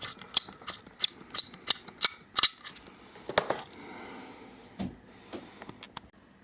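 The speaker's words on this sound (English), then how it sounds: "I'm just filing this down a little bit" Short rasping strokes repeat in a quick series as a small metal file is worked back and forth on a small part of a model van kit, then slow to a few scattered scrapes.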